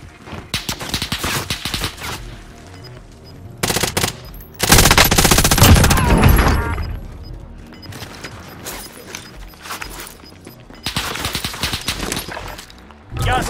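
Automatic gunfire in the video game Call of Duty Warzone, with bursts of rapid machine-gun shots and a loud dense volley in the middle, repeated in clusters over about thirteen seconds.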